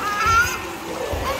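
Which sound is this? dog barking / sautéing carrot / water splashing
water splashing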